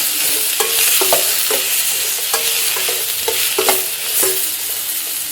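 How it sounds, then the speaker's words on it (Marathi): Grated coconut and tomato are stir-fried in a pan for a soybean curry, a loud continuous sizzle broken by repeated spatula scrapes and taps at an uneven rhythm. "टोमॅटो पण घालूया, खोबरं चांगलंच आपल्याला ना परतून घेऊयात"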